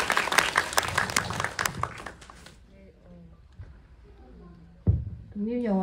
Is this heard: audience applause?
yes